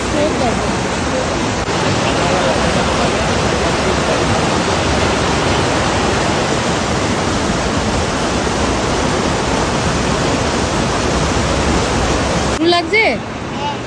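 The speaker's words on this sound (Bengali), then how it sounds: "জলের স্রোত দেখো।" A flowing water stream rushing steadily beside a market area, a loud, continuous broadband roar of water that stays constant throughout, ending with a brief rustle near the close.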